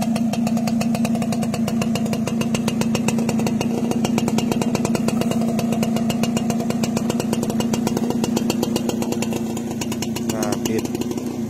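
A Honda CELA L 110 motorcycle, started by remote with a somewhat weak battery, idles steadily close by with a rapid, even putter that stays loud and unchanged throughout.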